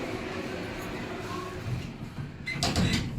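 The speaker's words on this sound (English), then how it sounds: "Please mind the doors. Doors closing." Lift doors glide shut with a soft rumble and a light thud near the end, against a low hum with faint voices, in a shopping centre.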